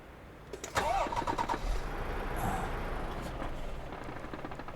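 A truck engine starts up in Euro Truck Simulator 2, with a short cranking whine and then a steady, medium-loud rumble that settles into idle with no talking over it.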